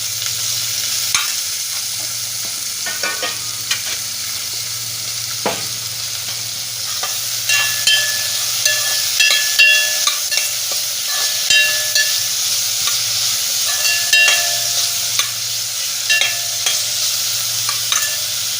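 Continuous sizzling and frying of masale bhat with masoor lentils, potato and peas in a pan, with repeated scraping stirs and clinks of a spatula as tomato is added and mixed in, close and steady.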